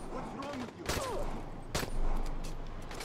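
Sniper gunfire in the Dying Light: The Following video game: a couple of sharp, loud cracks ring out amid game noise and a talking voice.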